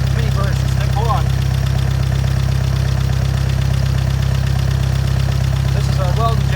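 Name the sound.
welding generator engine running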